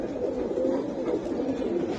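Pet pigeons of a racing or high-flying breed coo nearby in a soft, continuous low murmur that runs through the whole short stretch, with no voices over it.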